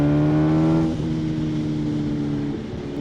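A Kawasaki ZH2 motorcycle fitted with a performance exhaust revs close by, a loud, steady engine tone that shifts pitch about a second in and holds before easing off near the end.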